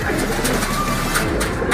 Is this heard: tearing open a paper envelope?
no